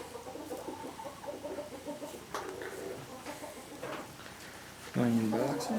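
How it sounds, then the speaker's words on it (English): Chickens cluck and murmur around a small farm yard, with a louder, closer fowl call near the end over a steady outdoor background. "That other rooster was starting early."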